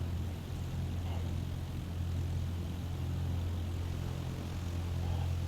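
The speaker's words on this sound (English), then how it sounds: "Cessna 172 is back taxiing runway 13 for takeoff runway 21" A Cessna 172 propeller engine in the MSFS2020 flight simulator, a steady low droning hum holding constant through the takeoff roll, fairly quiet with no voices.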